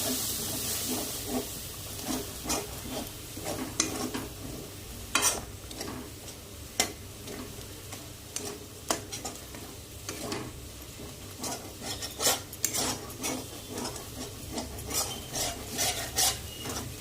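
Food being stirred in a frying pan with sugar added, a steady sizzle underneath repeated scraping and rasping strokes of a spatula against the pan, close and irregular in rhythm.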